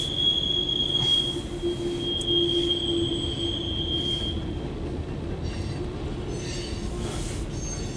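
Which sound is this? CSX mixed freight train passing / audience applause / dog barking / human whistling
CSX mixed freight train passing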